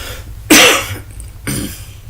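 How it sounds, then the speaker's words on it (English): Two harsh coughs, the first loud and drawn out, the second shorter and softer, close by with a low hum underneath, at a city council meeting. "I do apologize for the coughing in the background."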